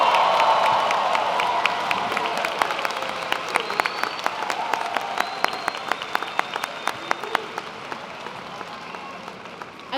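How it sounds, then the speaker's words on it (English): At a fall university commencement, a large audience applauds recent Kennesaw State University graduates, with loud, full clapping and some cheering in a big hall that gradually thins to scattered claps. "Let's give our most recent graduates from Kennesaw State University another round of applause."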